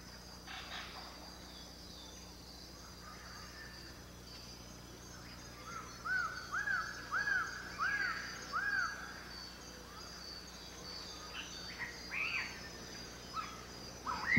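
Birds call through a New Guinea rainforest, where a run of clear, repeated whistled notes rises in the middle over a constant buzz of insects, with a few harsher calls scattered later, all at moderate distance.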